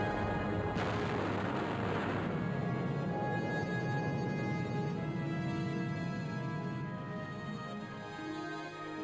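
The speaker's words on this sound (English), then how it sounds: "Wow, now that's an explosion." An explosion in the video game Broken Sword: Shadow of the Templars, a sharp loud blast after a short pause, followed by a long rumbling, crackling decay that slowly fades.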